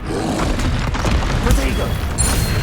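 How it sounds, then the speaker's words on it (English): Expelliarmus disarming spell cast in Hogwarts Legacy, a booming magical blast with whooshing impact amid dense game combat noise, with a voice speaking over it. "Expelliarmus!"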